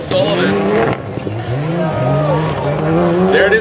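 A rallycross drift car slides through corners at a 2014 Red Bull Global Rallycross race, its tires squealing in long wavering howls over a loud revving engine, with a commentator talking over it.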